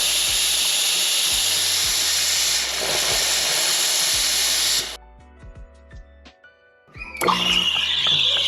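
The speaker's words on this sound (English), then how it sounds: "So it took 52 seconds for the machine to be ready for steaming." Gemilai Owl espresso machine steam wand hissing loudly and steadily for about five seconds, then a quieter gap with faint clinks before a burst of spraying steam resumes, close and without talk.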